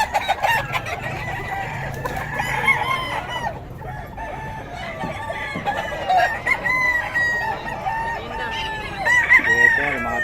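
A Sweater-breed rooster, one of the fowl brought by sellers from Taguig, crows repeatedly and clucks up close over a murmur of crowd noise and other birds.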